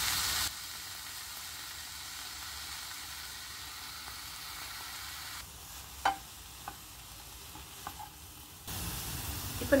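Grated coconut, mint and coriander sauté in a pan for mint thuvayal, a soft, even sizzle with faint stirring clicks and scrapes, and no voices.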